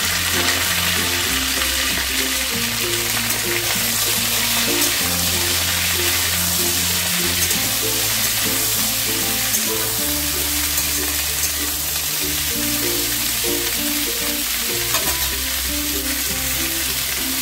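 Vegetables for a Bengali pumpkin-greens chochchori (kumro shaker chocchori) are stirred and fried in a hot pan, giving a loud, steady sizzle with repeated scraping stirs throughout.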